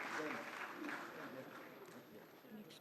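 Applause from the audience at an ITS Diamond Jubilee 2025 ceremony, a dense continuous wash of clapping at moderate level, tapering a little as it goes on.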